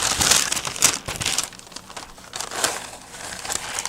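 Parchment paper crinkles and crackles as it is pressed into a loaf pan, close and continuous for a few seconds with sharp rustling bursts.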